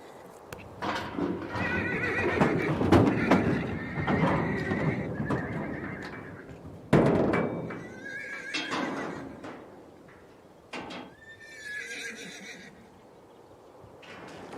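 Wild brumby horses in alpine Australia whinny and neigh loudly several times, with hooves clip-clopping and shuffling between the calls, close at hand.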